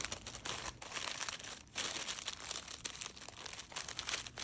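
Paper wrapping crinkled and crumpled around a sisig rice sandwich, a continuous close rustling and crackling for a few seconds, alone without speech.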